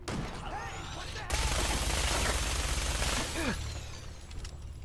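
Gunfire in the video game Fallout 4, a loud rapid fusillade of shots rattling and overlapping for a few seconds, with faint voices and game effects underneath as the barrage eases off.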